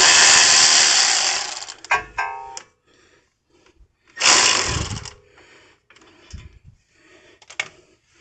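Power tool backing out 17 mm brake caliper bolts on a Toyota Prius front brake job, a loud close whirring burst, a pause with clinks, then a second burst followed by scattered metallic handling noises.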